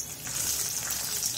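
Garlic cloves and chopped chilli fry in hot oil for Mangalore coconut milk rasam, giving a steady close sizzle and crackle throughout the short stretch, with no talk.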